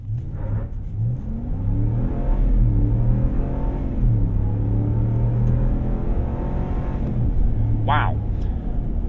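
A 2024 Ram 1500 Rebel 4x4 pickup with eTorque accelerates at full throttle from a rolling start, its engine rising through several gears with steady upshifts, heard from inside the cab while someone talks over it.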